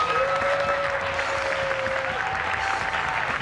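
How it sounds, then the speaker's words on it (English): Crowd applause for the first place team at a business pitch competition, continuous dense clapping from many people, with a sustained tone running beneath part of it. "Please give a round of applause for our first place winner"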